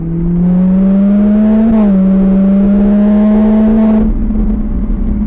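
A car accelerating hard out of a corner on a race track, a loud close engine drone climbing in pitch, briefly dipping at a gear change, then pulling again before easing off.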